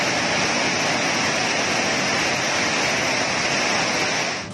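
Water released from the Basavasagar dam at Narayanpura, a loud, constant roaring rush of heavy flow, steady and unbroken throughout with no voices.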